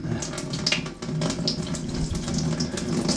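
Water from a tap runs steadily onto tightly woven, water-repellent fabric, a continuous close splashing and hissing stream with no voices.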